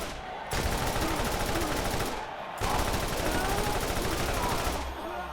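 The Draco legendary gun fires in the Borderlands video game, pouring out two long, loud bursts of rapid automatic fire separated by a brief gap.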